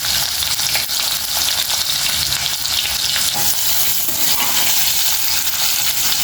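Onions and green chillies fry in hot oil with mustard seeds, a loud, continuous close-up sizzle with faint stirring scrapes throughout.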